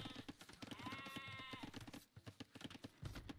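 A sheep bleats once, a wavering, drawn-out cry in a real-time strategy game, set against a steady patter of clicking game sounds, hoofbeat-like clip-clops and soft background noise.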